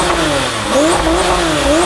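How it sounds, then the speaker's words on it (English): A Porsche 997 GT2 RS flat-six engine roars loudly through its titanium exhaust, its pitch climbing and dipping as the revs rise and fall in a steady, close, continuous snarl with no talk. "turn the left-hand ignition to hear this glorious flat 6 roar to life via the titanium exhaust"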